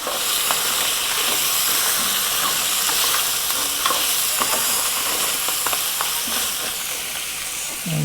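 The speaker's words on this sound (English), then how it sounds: "Let's give these a bit of a stir." Crab fries in a pan for chilli crab, stirred with steady scraping and clinks over a loud, constant sizzle and hiss heard close up.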